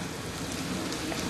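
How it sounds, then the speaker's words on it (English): Heavy rain pours down on an empty evening street in Ireland, a thick, constant wash of hiss with no pauses and no voices. "It's just pouring rain."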